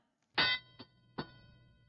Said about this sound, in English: those bells mean that drivers can now control their robots with the remote controls on their tables